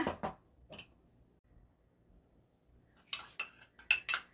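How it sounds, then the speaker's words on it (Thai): A spoon clinks against a bowl while tamarind water, fish sauce, sugar and chili flakes are mixed into a dipping sauce, with a few sharp taps at the start and a quick cluster of clinks near the end, close and clear. "เดี๋ยวเรามาผสมเลยค่ะ"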